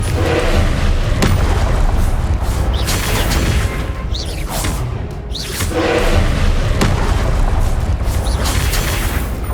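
Repeated Confringo blasting-spell explosions during a Hogwarts Legacy duel: loud, booming blasts recur every couple of seconds over dense, continuous combat noise, with no pause between them.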